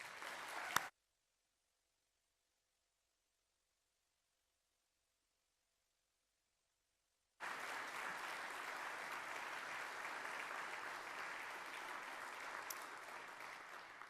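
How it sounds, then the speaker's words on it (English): An audience at a public service award ceremony in Newfoundland and Labrador gives a brief burst of clapping that stops and falls silent, then claps again in dense, sustained applause for several seconds. "Please give them another round of applause."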